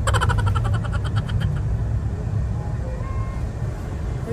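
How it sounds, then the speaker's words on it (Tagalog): Road traffic hums steadily with a dense rumble of car and engine noise, close and continuous, with a faint tonal whine early on. "Uy, traffic na pala."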